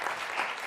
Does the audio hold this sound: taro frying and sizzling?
no